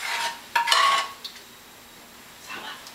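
A metal pot is scraped with a utensil while curry is added to shrimp, giving a few short scraping and clinking strokes early on, then a quiet stretch and one softer scrape at the end.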